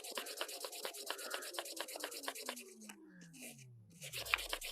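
Quick, rhythmic scratchy strokes of sandpaper rubbing back and forth, close and faint, slowing into a few longer passes near the end.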